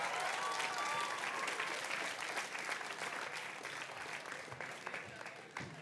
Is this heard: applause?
yes